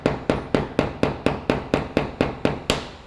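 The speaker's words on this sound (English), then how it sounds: "and then we're going to hammer this" A small hammer drives a roll pin flush into the safety of a Jarvis Type C cylinder-style PAS stunner, giving about eleven sharp, evenly spaced metallic taps, loud and close, with no talking.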